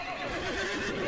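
A tournament horse in the game Mount & Blade Floris neighs, a loud, close whinny with a wavering pitch, with hoof clip-clop sounds under it.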